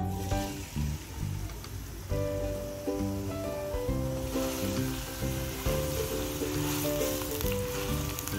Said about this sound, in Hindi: तेल गर्म हो गया है, अब इसमें प्याज डालूंगी।